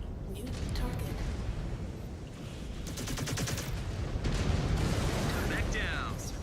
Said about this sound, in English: Could hear the Gauss rifle firing